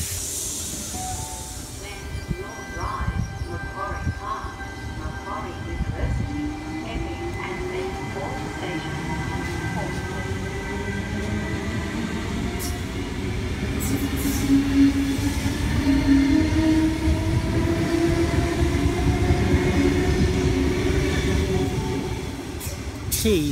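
A Sydney Trains Tangara sits at platform 4 of Redfern Station, giving a steady rumbling hiss with tonal motor whine and faint wheel squeal that swells midway, while a voice talks over the platform noise.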